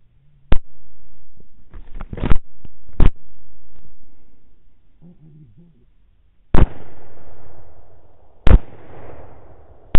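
Rifle shots at a wild hog during a hunt with a thermal scope, several loud sharp cracks spaced across the stretch, some followed by a rolling echo, with brief murmured voices in between.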